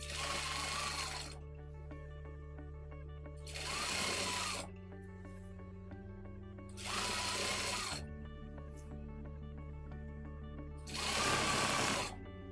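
A sewing machine stitching a rolled hem runs in three or four steady bursts of motor whir and needle chatter, with quieter pauses between them where the fabric is repositioned.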